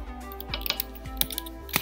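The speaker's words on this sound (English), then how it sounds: "I'm going to change the name and just type here" Typing on a computer keyboard while entering a name in MIT App Inventor, a few sharp, irregular key taps over a low background hum, close and moderately loud, with no one talking.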